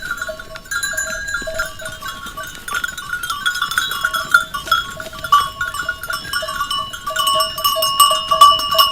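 Bells clink and jingle steadily among grazing goats and sheep, with occasional bleats, a busy pastoral jangle at close range.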